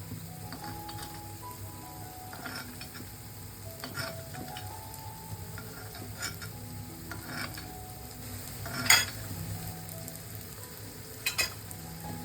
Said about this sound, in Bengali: এপিট ওপিট কিন্তু উল্টে উল্টে ভাজতে হবে।